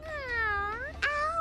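A human voice imitates a cat: one drawn-out meow, then a second, shorter rising meow, close and clear.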